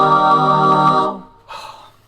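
A short snatch of a recorded theme song for The Robbie and Matthew Show, a loud sustained tonal chord that fades out, followed by a brief quieter burst of sound.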